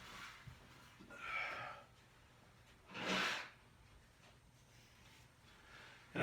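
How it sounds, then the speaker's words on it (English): A person blows their nose in a few quiet, breathy bursts, two or three short snorting blows separated by pauses, close and faint against a soft background hum. "I gotta blow my nose."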